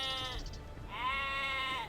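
Sheep in the video game Age of Empires II give two wavering bleats, a short one followed by a longer, louder tremulous call, close and clear over a faint background.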